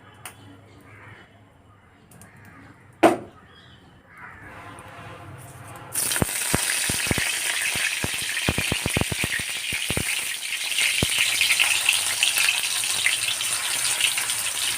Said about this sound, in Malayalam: ചട്ടി ചൂടായിട്ടുണ്ട് ഇനി വെളിച്ചെണ്ണ ഒഴിച്ചു കൊടുക്കാം